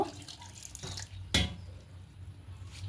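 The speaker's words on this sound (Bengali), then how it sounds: "এবার বাটির মধ্যে জল দিয়ে জলটা এখানে অ্যাড করে দেব।" Water splashes and drips from a bowl into a mixer jar holding a breakfast batter mix, one brief close pour in the middle with faint trickles around it, no voices.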